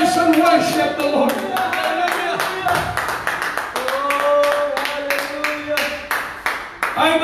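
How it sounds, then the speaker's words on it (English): Church congregation clapping hands together in worship, a steady rhythmic beat of many hands carrying on throughout, loud and close, with voices and sustained tones sounding alongside. "shall we clap our hands and worship the Lord"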